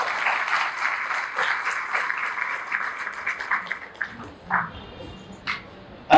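A seated audience at a religious gathering for Mahavir Janma Kalyanak in Kopargaon gives a round of applause, dense clapping that holds steady, then thins into scattered claps and fades, with a few isolated claps near the end.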